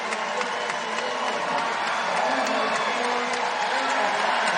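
A home crowd at a college women's basketball game between Gonzaga and Utah roars steadily and cheers as players come out, a dense continuous wall of arena noise.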